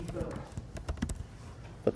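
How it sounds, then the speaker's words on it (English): Quick, light clicks of someone typing on a computer keyboard come in short irregular bursts, faint and close, with a few louder taps mixed among them. "I'm going to type in camera angles"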